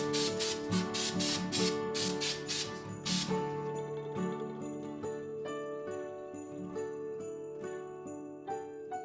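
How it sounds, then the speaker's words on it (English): Santa snow spray hissing onto a Christmas tree in a rapid series of short, loud spurts, then fading to quiet, with tinkling chime-like music playing underneath throughout. "I'll come through with some Santa snow and spray the whole thing white"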